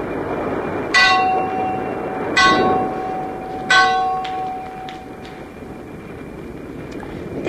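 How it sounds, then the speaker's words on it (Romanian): A ship's mast bell rings three times in fog at uneven intervals, each strike leaving a long ringing tail over a steady low rumble of background noise, in a radio drama. "Sunetul clopotului mare de pe catarg răzbătea din când în când prin valurile de ceață."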